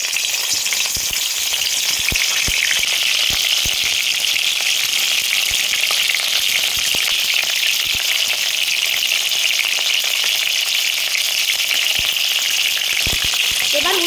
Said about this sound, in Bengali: এবার এগুলো গরম তেলে ভাজা হবে।